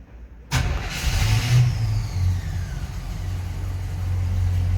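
A 1964 Chevrolet C10 engine cranks briefly after silence, catches with a loud burst, then settles into a steady, deep, close idle.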